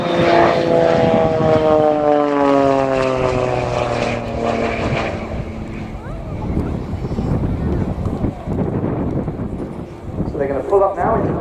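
Aerobatic jets of The Blades display team at the Royal International Air Tattoo 2019 roar past close overhead, a loud continuous engine drone with falling pitch as they pass, under a commentator's voice and wind buffeting.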